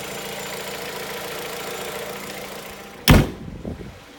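A 2017 Jeep Compass 4-cylinder engine idles steadily with a low, even rumble, then a sharp thud like a door closing cuts in near the end.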